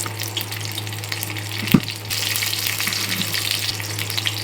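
Dried red chillies and curry leaves crackle in hot oil for an onion chutney, a loud continuous sizzle with one sharp metallic knock partway through as the frying intensifies.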